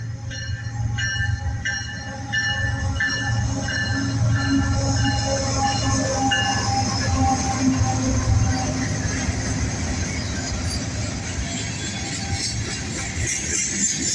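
An eastbound manifest freight train led by a KCS locomotive rumbles past steadily, with horn blasts sounding early on and a continuous low roll of wheels and cars throughout.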